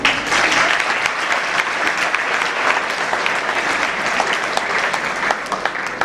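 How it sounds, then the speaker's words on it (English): An audience at a school career-guidance talk claps steadily and loudly throughout, a dense, even wash of applause with no talking over it. "We didn't expect an applause for that"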